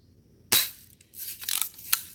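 A grandson's BB rifle fired at a target, a sharp close crack followed by a few quieter snapping clicks and a final pop against near silence.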